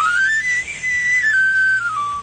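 A knife sharpener's traditional pan flute whistle plays a single loud, close sweep that glides up the scale and then slides back down, ringing bright and clear for about two seconds alone.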